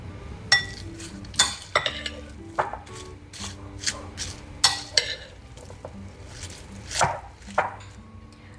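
Tuna salad with mayonnaise and crushed pork rinds mixed by hand in a bowl: an utensil scrapes and clinks against the dish in irregular bursts, close and moderately loud, with soft squishy stirring in between.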